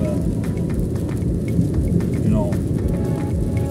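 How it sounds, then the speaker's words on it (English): Heavy rain pours steadily in northern Italy near Modena, a constant loud hiss with faint thunder rumbling beneath, no voice heard. "It's raining big time."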